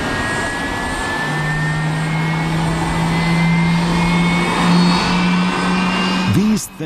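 A Boeing 747-400 roars under the thrust of its four jet engines on takeoff, with a loud, steady broadband rumble and a rising whine that holds and then fades near the end. A narrator talks over it.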